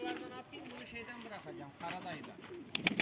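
Soft, repeated cooing of a pigeon or dove, close by, in a gentle rhythmic series, with a few rustling clicks near the end.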